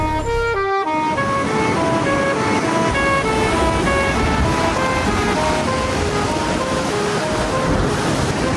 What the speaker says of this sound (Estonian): Päris agressiivsed lained.